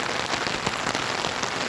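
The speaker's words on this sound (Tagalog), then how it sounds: "Lumakas ang ulan, guys." Heavy rain falls steadily on a Saturday morning, a dense, continuous hiss of drops striking surfaces close by, loud and unbroken with no voices over it.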